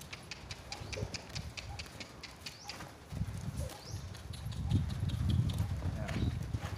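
Horse hooves clip-clop in a steady rhythm as the horse is lunged in a circle, close and fairly clear at first and growing louder in the second half, with faint outdoor background noise.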